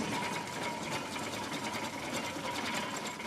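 An Edwardian-era Ivel agricultural tractor engine runs steadily and close by, with a dense, continuous mechanical clatter and whir, holding an even loudness throughout with no talking.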